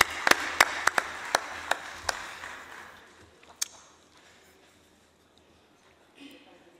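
A small burst of applause for a minister at a UN Environment Assembly session, several sharp distinct claps in the first two seconds that quickly thin out and fade to near silence.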